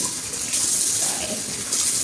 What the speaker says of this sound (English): Just a little bit there in the slow running water.